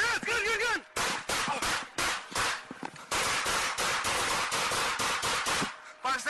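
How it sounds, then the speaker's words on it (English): Police officers fire a burst of gunshots, rapid close sharp cracks in quick clusters with brief gaps, mixed with shouting voices. "Five, 7 shots fired."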